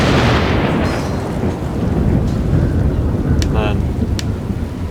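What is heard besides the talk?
rain and thunder weather in the video game Pharaoh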